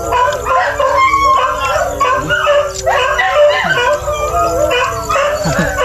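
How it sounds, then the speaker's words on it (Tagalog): Several dogs bark, yip and howl together in a rough, overlapping chorus, close and loud, with some whimpering mixed in. "Dami kasi aso dyan eh."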